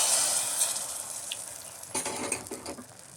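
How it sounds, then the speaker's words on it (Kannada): Cashews and raisins frying in a pan, a soft steady sizzle with occasional scraping stir strokes and light metallic clinks toward the end. "ಗೋಡಂಬಿ ಹಾಕ್ಕೊಂಡು ಅದು ಒಂದು ಸ್ವಲ್ಪ ಕಲರ್ ಬರೋವರೆಗೂ ಹಾಗೆ ಫ್ರೈ ಮಾಡ್ಕೊಳ್ಳೋಣ"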